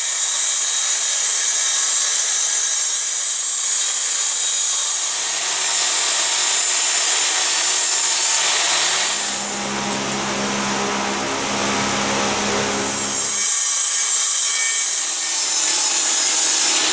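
A wooden piece for a chicken coop's outer double door is cut with a saw, which gives a steady, loud rasping drone for the whole stretch. Its tone deepens briefly in the middle as the cut bites harder, then returns to a bright buzz.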